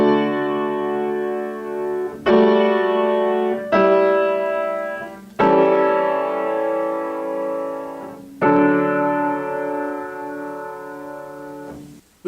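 Sustained four-part chord progression with two simultaneous suspensions, 2-1 and 7-6, one resolving in the alto, five held chords changing about every one and a half to three seconds, played alone with a soft reverberant tail.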